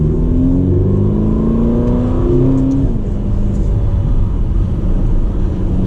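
Ferrari California T in manual mode accelerating hard in first gear, engine note climbing steadily, then a shift into second drops the revs and the loud, close rumble pulls on.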